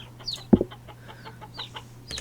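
Chickens in the Vintage Story video game cluck in scattered short calls over a steady low hum, one louder cluck standing out near the start.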